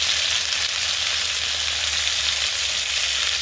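Bitter gourd frying in oil with black cumin seeds, salt and turmeric, a steady close crackling sizzle that holds evenly throughout with no voices.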